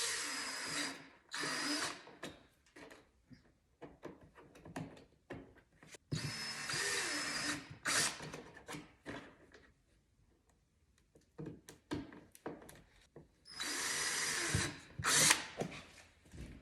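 A power drill bores holes in a plastic Ski-doo 850 Turbo snowmobile panel during an air-vent install. The whine comes in several loud bursts of one to two seconds, separated by quieter handling noises and clicks.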